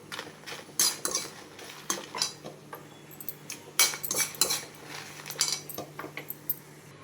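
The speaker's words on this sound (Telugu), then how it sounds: "కొంచెం మిరపకాయలు వేపేసుకుంటున్నాము." Dried red chillies are stirred in oil in a metal pan with a spoon, giving close, irregular scraping and clinking taps with no talk.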